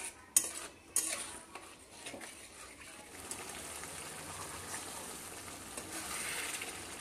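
A masala paste of soaked, ground spices thinned with a little water is stirred and sautéed in a pan for a fish curry, with a couple of metal clanks at the start and then a steady low sizzle.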